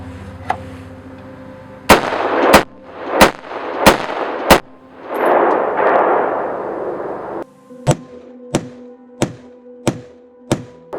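A short-barreled firearm fitted with a flash hider fires at night, a series of sharp, loud, close reports with a burst of rushing noise in the middle and a further run of quick, evenly spaced cracks after it.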